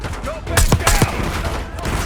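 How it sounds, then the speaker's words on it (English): Minigun fire in Call of Duty: Black Ops 6 comes as a short cluster of loud, sharp bursts over about half a second. Noisy combat sound and faint voice-like traces fill the rest. "We've got a hostile with a minigun."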